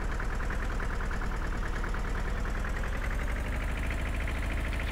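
Tractor and harvester engines in the video game Farming Simulator 2013 rumble in a continuous steady drone with a rhythmic mechanical throb and a faint rising whine, loud and close, with no voices.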